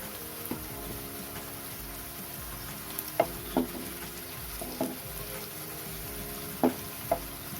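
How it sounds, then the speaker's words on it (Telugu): Onions and chili flakes fry in a pan with a soft, steady sizzle, broken by a few sharp clinks of a spoon against the pan. "ఆనియన్ వేగిపోయాయి."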